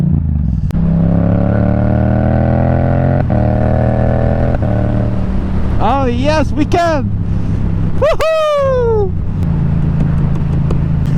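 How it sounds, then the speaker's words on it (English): Yamaha MT-07 motorcycle engine droning steadily while riding, loud and close under wind, with rising and falling revs. A rider speaks and whoops over it. "Unfortunately my bike is making a lot of noise."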